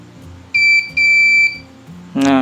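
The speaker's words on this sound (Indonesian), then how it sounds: "dia akan membunyikan buzzer, kemudian door lock tidak terbuka ya" Arduino fingerprint door lock buzzer sounding for an unregistered finger: two clear, loud electronic beeps in a row, followed by a brief burst of another tone at the end.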